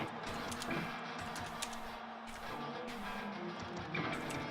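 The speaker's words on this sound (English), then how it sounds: "I don't even know how to play with keyboard, to be honest, but I will attempt to for the sake of the meme." Computer keyboard keys pressed steadily while playing Guitar Hero 3, a dense run of quick clicks and taps at moderate level with no talking.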